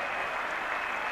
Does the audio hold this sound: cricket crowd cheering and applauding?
yes